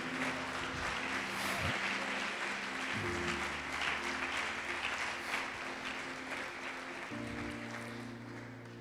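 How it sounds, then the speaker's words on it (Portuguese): A church congregation applauds, sustained broadband clapping from many hands filling the room, with sustained low organ or keyboard chords underneath. "Você pode aplaudir o Senhor Jesus por isso?"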